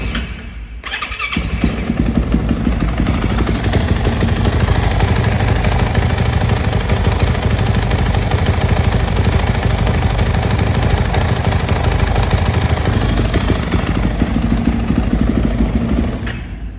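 Motorcycle engine cranks and fires after about a second, then runs at a loud, steady, rough idle with a rapid pulsing beat for the rest of the stretch, close by and alone.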